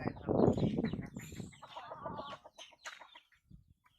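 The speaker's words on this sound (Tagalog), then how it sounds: "Ay, mga manok eh. Mga panabong." Fighting cocks and other chickens cluck and murmur at a poultry farm, a few close, soft calls overlapping in a brief quiet stretch with no talking.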